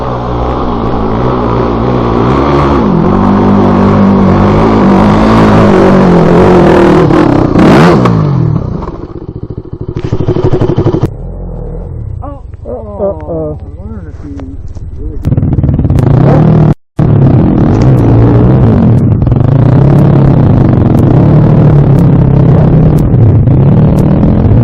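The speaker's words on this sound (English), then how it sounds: "watching some 450s, a KTM 300, and just for fun, a KX85 all attempt the same hill climb" Dirt bikes, including 450s, a KTM 300 and a KX85, take turns on a hill climb with loud, close engine revving that rises and falls, interrupted by a brief sudden cutout, and voices talk in places.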